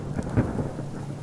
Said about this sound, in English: it's way too dark and stormy to be out here